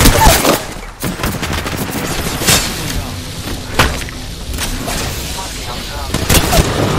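Gunfire in the Apex Legends video game: rapid bursts of shots with sharp cracks spread across the stretch. They are close and loud and sit under excited talk between players.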